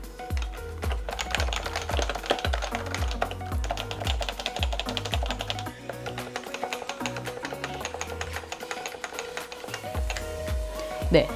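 Rapid clacking keystrokes from a Happy Hacking mechanical keyboard connected to an iPad Pro, a fast continuous rhythm with a brief pause midway, close and crisp over low background music.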